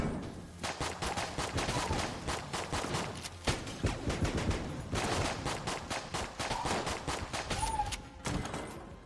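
Rapid gunfire from a gun in Enter the Gungeon: a fast, even stream of sharp shots, fairly faint, pausing briefly before resuming in quick bursts.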